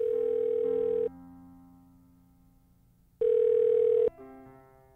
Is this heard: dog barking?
no